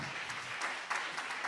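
Church congregation at a JMCIM preaching service claps together, a fairly faint but steady wash of hand clapping with a few stronger bursts through a short span.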